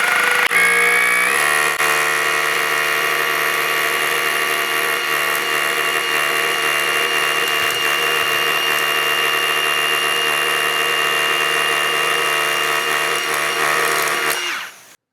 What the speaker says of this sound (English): Let's turn the vacuum cleaner on and take a gander at how much dust or particulate does not become airborne.